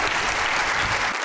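A studio audience on a Pakistani comedy talk show bursts into a short, dense round of applause for an arriving guest, loud and close, cutting off abruptly after about a second.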